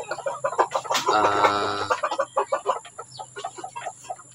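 Several chickens, hens with chicks, cluck close by in quick, irregular bursts, with a louder, drawn-out hen call partway through.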